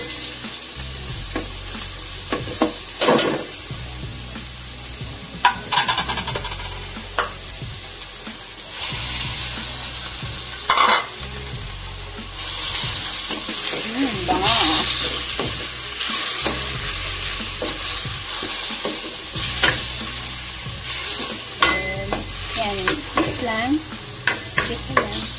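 Chicken pieces for tinola sizzle and fry in a hot pan, with repeated stirring scrapes and clatters over a steady crackle, close and fairly loud.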